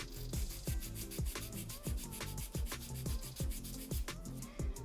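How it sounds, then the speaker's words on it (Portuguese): A nail file rasps rhythmically along the side of a fingernail in quick, regular back-and-forth strokes, close and fairly soft, with no talking. "Viramos a mão e vamos limar do outro lado."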